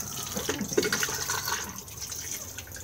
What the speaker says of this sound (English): and then push to flush just on the top,